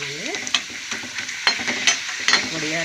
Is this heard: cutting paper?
no